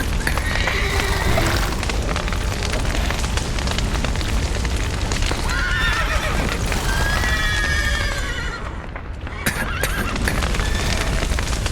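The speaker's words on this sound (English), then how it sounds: "The horses!" In The Witcher 3 video game, horses whinny and neigh repeatedly over a dense rumble of hoofbeats, crackling fire and commotion, loud and busy throughout, with a short drop in the noise near the end.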